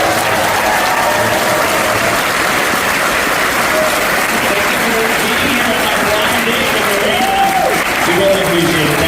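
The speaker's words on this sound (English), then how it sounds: "Can we have one more round of applause?" A large audience applauds loudly and steadily at an artist talk in the Great Hall of Cooper Union, New York, with dense clapping and faint crowd voices mixed in throughout.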